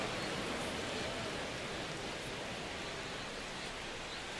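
Baseball stadium crowd ambience in MLB The Show 25, Mariners versus Athletics in the ninth inning: a faint, constant hiss-like roar of distant fans with no distinct cheers.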